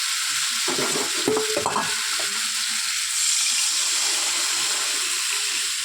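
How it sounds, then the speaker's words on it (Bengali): Water poured into a pan of simmering tilapia fish curry with potatoes and taro: a steady close hiss and sizzle throughout, with a brief burst of splashing and stirring near the start. "এবার আমি জল দিয়ে দেবো"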